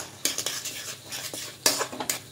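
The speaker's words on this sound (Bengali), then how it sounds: "এবার নারকেল কোড়াটা দিয়ে দেব। দিয়ে খুব ভালো করে মিশিয়ে নেব।" Grated coconut stirred into a ripe mango mixture for dudh puli pitha, a series of irregular spoon clinks and scrapes against the bowl, close and fairly loud, with no talk.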